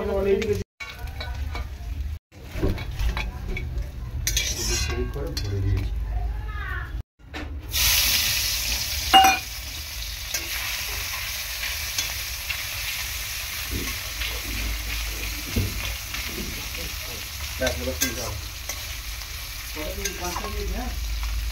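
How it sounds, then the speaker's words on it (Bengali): Small river mourala fish fry in hot oil in a pan, giving a loud, continuous sizzle broken by clattering turns and stirs, with a few brief pauses. "একবার ভেজেছি আর মাছটাকে ভেজে নেবো"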